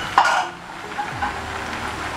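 A spoon stirs a pot of cooking beans, with a brief clink against the metal near the start, then a steady low simmering hiss and occasional scrapes, close and moderately loud, with no talk.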